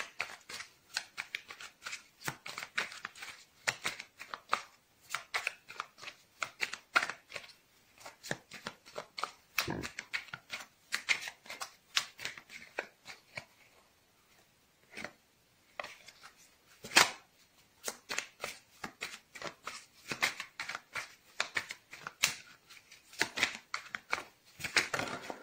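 Tarot cards are shuffled by hand in repeated bursts of soft riffling and sharp clicks, close and fairly quiet, with short pauses between rounds and no voice.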